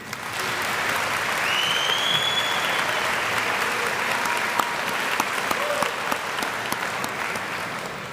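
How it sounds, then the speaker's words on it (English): Big, sustained applause from a university spring commencement audience, a dense even wash of many hands clapping throughout, with a few whoops rising over it. "Graduates, please join me in another round of applause for those who walked with you on this journey."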